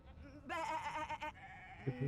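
A sheep in the video game Divinity: Original Sin 2 gives a short, loud, wavering bleat lasting under a second, followed by quieter game sounds and a low murmur.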